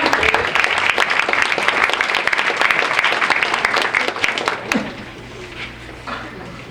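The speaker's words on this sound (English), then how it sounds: "Big round of applause, guys." An audience at a school spring arts night claps loudly and continuously for a conductorless string ensemble, the applause fading out after about five seconds into quieter room noise.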